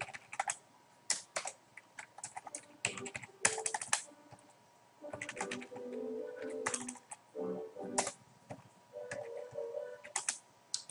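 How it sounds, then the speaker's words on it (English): Computer keyboard typing while an account code goes into a purchase requisition form, coming as quick irregular bursts of light key clicks with short pauses between them and no voices. "then I would type in another account code"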